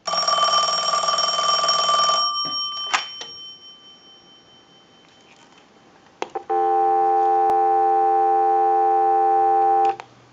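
A telephone line analyzer supplying dial tone to a Western Electric Princess desk telephone: after the last bell ring fades and a few clicks from the handset, a steady loud continuous tone comes on and holds for several seconds.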